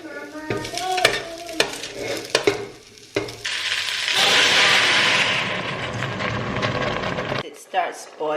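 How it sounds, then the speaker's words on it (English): A loud, steady sizzle of cauliflower frying in a pan swells up after a few sharp clatters and stirring noises, then cuts off near the end. "Go ahead and add the cauliflower."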